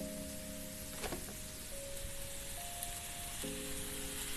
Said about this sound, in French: Alors, on va cuire notre viande.